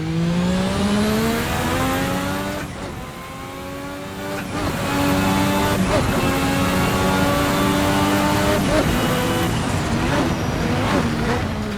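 A 1986 turbocharged Formula 1 race car of about 1,200 hp accelerates hard through the gears, heading downhill in sixth. The loud, close engine whine climbs repeatedly, with brief drops at each upshift.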